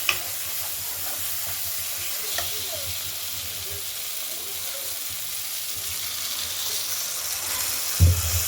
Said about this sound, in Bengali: দিয়ে মশলাটাকে ভালো করে নাড়াবো।